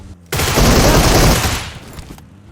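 A loud burst of sustained video game gunfire fills most of the clip, a dense rattling volley that starts abruptly and fades out near the end, with no talk over it.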